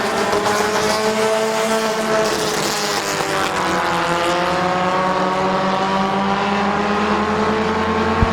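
Race cars roaring around the Midvale Speedway oval in a steady, loud engine drone with rising and falling pitch as the pack passes.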